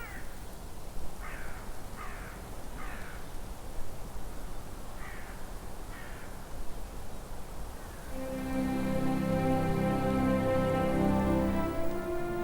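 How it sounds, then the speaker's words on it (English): Several harsh crow caws ring out at intervals over a steady wash of outdoor noise in the snowy Black Forest in winter, followed by a louder, denser stretch of rushing sound. "The crows seem unperturbed by the snow."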